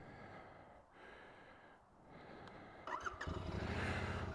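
Royal Enfield Interceptor motorcycle from 2021 firing into life midway, its engine catching with a burst and settling into a loud, steady idle close by, after a stretch of muffled, breathy background noise.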